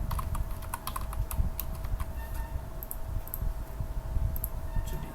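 Close, continuous clicking of computer keyboard keys as an address is typed into an Excel spreadsheet, quick irregular keystrokes over a low steady hum, with no speech.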